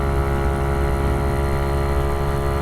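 A 171cc engine-swapped Honda Ruckus scooter runs steadily while being ridden, its close, continuous droning hum filling the whole stretch without pause or speech.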